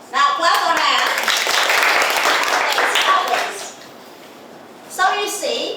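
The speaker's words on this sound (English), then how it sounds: "Now clap your hands." A class of students clap their hands together for a classmate's performance, a dense burst of many hands lasting a few seconds, fading, then a short second round, with children's voices mixed in.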